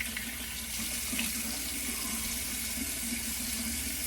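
Steady hot water pours from a tap, a constant close hiss and splash with no pauses or voices.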